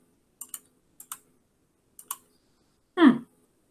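A computer mouse clicks in a quiet room: three quick pairs of sharp double clicks, then a louder, fuller click near the end.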